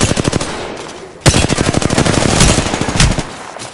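Rapid automatic gunfire in Apex Legends on PS4, loud dense bursts of shots in quick rhythmic succession, easing briefly then resuming heavier for the rest of the moment.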